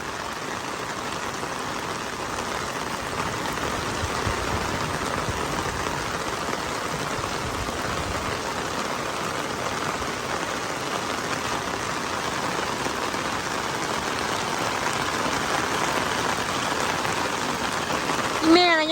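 Heavy rain from a passing storm drums on surfaces in a steady roaring wash, constant and loud throughout, with a brief bump near the end and some talk under it.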